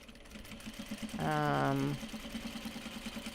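A sewing machine stitches upcycled obi and kimono fabric in one short, steady whirring burst of under a second, at moderate level against a soft rhythmic background hum.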